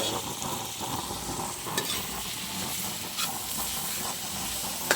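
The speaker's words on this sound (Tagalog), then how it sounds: "ginisa nga sardinas with upo." Sardines and chopped bottle gourd sauté in a pan with a steady close hiss and sizzle, broken by a few brief sharp clinks of stirring.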